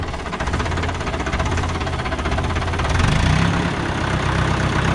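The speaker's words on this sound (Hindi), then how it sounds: "बस यही आवाज रहनी है ट्रैक्टर की, इससे ज्यादा आवाज होगी, ये मैक्सिमम आवाज है भाई ट्रैक्टर की।" Engine of a 1958 Fordson Power Major tractor idling with an added silencer, a steady, loud, close low rumble with a rhythmic knocking pulse throughout, alone without talk.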